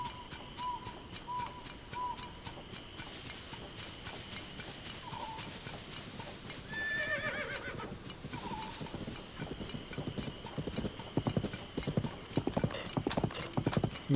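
A horse in the Zelda Tears of the Kingdom video game trots and gallops with a steady, rhythmic clip-clop of hooves, with a brief whinny partway through; no talk is heard over it.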